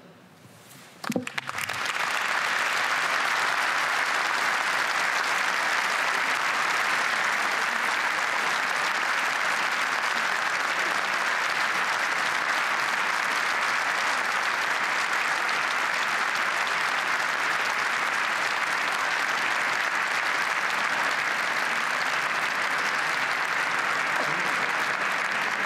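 A large crowd bursts into sustained applause during a speech at the reopening of Notre-Dame, after a brief quiet moment, the clapping holding steady and loud for the whole stretch.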